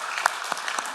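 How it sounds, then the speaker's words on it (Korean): A church congregation at a Sunday afternoon service claps together in a brief, scattered round of applause that fills the room. "우리 박수를 하게 해주세요."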